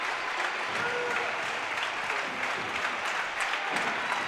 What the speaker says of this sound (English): A standing ovation from the Bryan crowd.